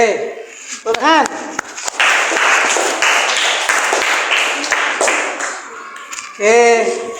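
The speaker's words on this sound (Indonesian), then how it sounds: "Oke, tepuk tangan." Classroom group applauding after a student presentation, several seconds of loud clapping framed by a teacher's voice speaking before and after.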